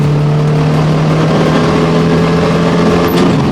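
A Paykan car with aerodynamic modifications runs flat out in a speed test, its engine droning loud and steady at high revs amid constant wind and road roar.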